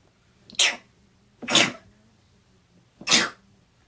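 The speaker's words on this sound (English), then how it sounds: "I'm going to sneeze though in a minute" A person sneezes three times in a row, loud and close. Each burst is sharp and breathy, with roughly a second of quiet between them.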